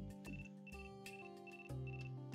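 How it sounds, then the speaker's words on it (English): A phone ringtone from the visual novel ChaoS;HEAd plays on its own as a repeating electronic melody of bright tonal notes in a steady rhythm, clear and close. "Someone's ringing."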